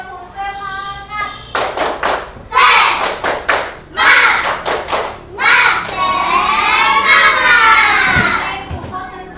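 Children do a rhythmic clapping chant called tepuk semangat, loud bursts of patterned claps in quick groups, alternating with shouted chanted words from the group, close and energetic.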